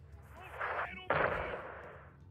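Gunfire in a multiplayer video game shooter, a burst of rapid shots followed by a sharper crack and decaying echo, heard at a moderate distance in a short two-second stretch.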